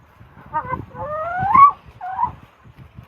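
Hens clucking and calling nearby in a coop, a few rising drawn-out squawks over soft low clucks, with quiet pauses between calls.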